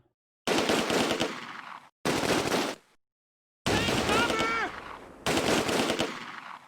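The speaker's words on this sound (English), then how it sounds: "Focus your fire on the threat sneaking up on you, boys." Close Combat: A Bridge Too Far gunfire comes in four loud, abrupt bursts of rapid machine-gun fire, each cut off cleanly with silence in between, and a faint voice-like tone sits in one burst.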